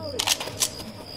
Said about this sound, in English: I'm reloading.